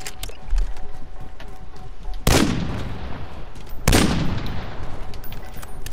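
Gunfire in Call of Duty: Modern Warfare, with two loud, sharp shots that ring out and decay, over a steady bed of game noise.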